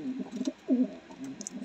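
A pet pigeon coos nearby in soft, low, throaty phrases that rise and fall, with a brief pause between calls.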